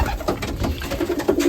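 Young racing pigeons coo in a loft, soft throaty rolling calls repeating close by with faint rustling and no talking.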